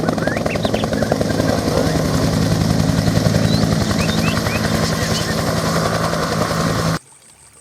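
Toy helicopter whirring with a buzzy, rattling motor and rotor drone, loud and close, running continuously for about seven seconds before cutting off abruptly.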